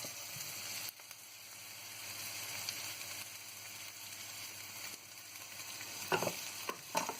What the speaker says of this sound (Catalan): Anem remenant bé la ceba